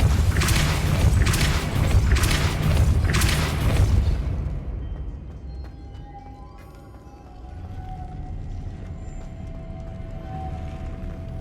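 Spells cast in Hogwarts Legacy, including the Depulso force spell: a series of heavy booming thumps in quick succession, loud and close, fading into a low humming ambience.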